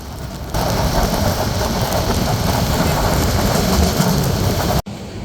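Heavy rain pours during a ride on the Parjotak Express from Dhaka to Cox's Bazar. A dense, loud wash of rain and rolling train noise fills the non-AC chair coach almost continuously, broken only by a brief dropout near the end.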